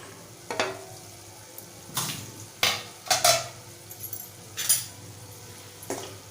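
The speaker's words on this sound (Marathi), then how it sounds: "आपण झाकण उघडूया आणि चेक करूया भाजी शिजलं का" A pot lid is lifted and a capsicum potato curry is stirred after slow steaming, with about six separate clanks and scrapes of metal on metal over a quiet, faint simmer.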